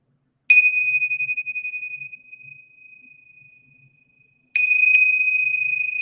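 Two clear bell strikes a few seconds apart, each a bright metallic ring that sustains and slowly fades into silence.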